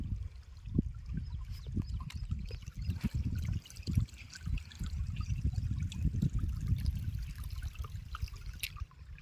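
Irrigation water flows steadily into a cotton field, a soft, continuous trickling and gurgling close by with small splashes, heard alone without voices.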